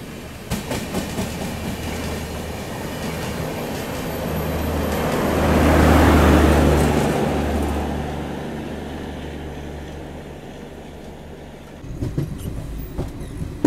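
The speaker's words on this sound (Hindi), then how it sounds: "अभी अपनी गरीब रथ के बगल से क्रॉस होने वाली है मडगांव मुंबई जन शताब्दी एक्सप्रेस" Madgaon–Mumbai Jan Shatabdi Express passing on the main line beside a Garib Rath, a steady rumbling roar with rhythmic wheel clatter that swells to a peak mid-pass and then recedes, ending abruptly.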